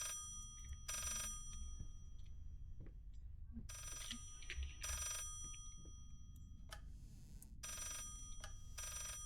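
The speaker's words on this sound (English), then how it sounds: "The phone is ringing." Telephone ringing inside the horror game Layers of Fear, coming in repeated bursts of bright bell tones with pauses between them over a low ambient rumble.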